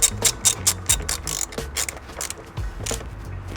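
A ratchet socket wrench with a magnetic socket turns a bolt while working on a Toyota Tacoma. Quick close bursts of metallic clicking come in an uneven rhythm, with short pauses and a few heavier clunks.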